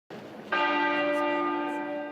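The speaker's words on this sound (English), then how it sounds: "Westminster Abbey's tenor bell chiming once a minute for 96 minutes, marking each year of Queen Elizabeth II's life" A single deep strike of Westminster Abbey's tenor bell, tolled once a minute in mourning for Queen Elizabeth II, rings out clearly and hangs in a long, steady, humming decay.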